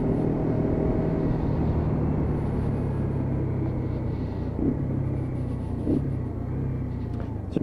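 A Lexmoto Venom 125cc motorcycle climbs a steep 1-in-8 hill carrying a heavy rider, its engine giving a steady, close, labouring drone and rumble throughout, with slight swells in pitch near the end.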